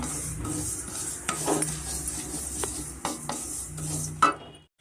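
Ragi dry-roasted in a pan while a spoon scrapes and stirs it, making close scraping strokes and metallic clinks over a soft crackle, with a sharp knock near the end before silence.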